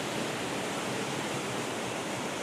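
A steady, dense rush of falling water comes from a waterfall along the Snakeden Ridge trail in Tennessee, continuous and loud with no breaks or voices.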